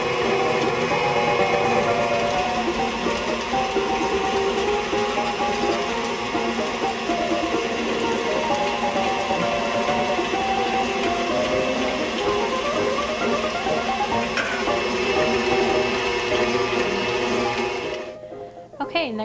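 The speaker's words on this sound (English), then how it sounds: "We're going to start by creaming the butter and the sugar together" An electric mixer creaming butter and sugar together, a loud steady whirring drone holding for most of the stretch before winding down near the end, with talk in the background.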